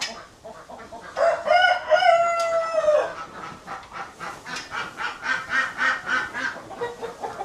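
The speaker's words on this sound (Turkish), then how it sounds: "Kırmızı tavuklar, horozlar." Red chickens and roosters at a small animal show crow and cluck in a drawn-out, close and fairly loud call, followed by a run of rhythmic repeated clucks.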